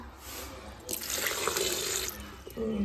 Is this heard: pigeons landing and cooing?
no